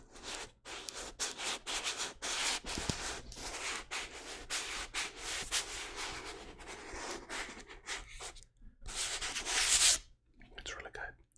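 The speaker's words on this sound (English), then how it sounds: "the material on this cover here is very coarse. It's hard. It's grainy, so it makes really good for book rubbing." Fingers rubbing and scratching a coarse, hard, grainy book cover up close, a dense sandpapery hiss that swells and pauses in strokes, with faint whispered speech at times.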